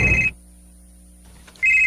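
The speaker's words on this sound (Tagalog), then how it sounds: "Akong tawgan si Erika sa iyang cellphone" A cellphone rings in a drama scene, loud electronic trill bursts at the start and end separated by a quiet gap, with no talk.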